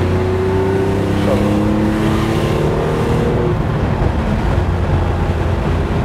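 Classic Porsche 911S 2.4 Targa with a six-cylinder engine accelerates, its engine note loud, close and continuous with rising revs throughout.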